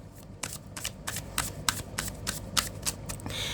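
Tarot cards being shuffled by hand in quiet, soft riffling bursts of papery flicks and taps over a few seconds, close but faint, with no talk.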